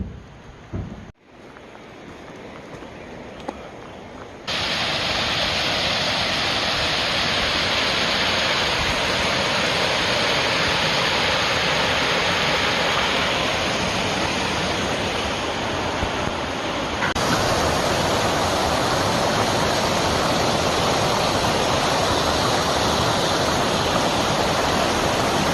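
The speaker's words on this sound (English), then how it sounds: "Water's up. Gonna be some beautiful waterfalls today." High water pours over a waterfall in the Big South Fork, a steady, loud, broadband roar that jumps louder after a few seconds of quieter rushing and holds constant throughout.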